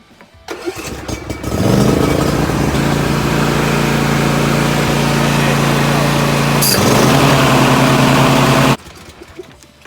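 A 2021 Simplicity Regent riding lawn mower engine cranks and catches, then runs at a loud, steady idle for several seconds before cutting off abruptly.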